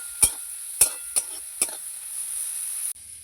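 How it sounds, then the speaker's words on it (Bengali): Small shrimp frying in a pan with turmeric, a soft continuous sizzle under four sharp close utensil clacks early on, then steady frying alone before an abrupt cut. "হলুদ এবার ভালো করে চিংড়ি মাছটাকে কড়া করে একটু ভেজে নেব"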